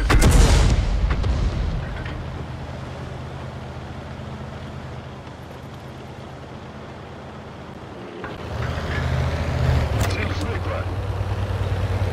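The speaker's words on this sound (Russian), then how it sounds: "Орудие готово к стрельбе." Churchill I tank cannon in a video game fires one loud opening boom that decays into a long rumble, followed by engine drone and a second rise of noise later, with a voice speaking during it.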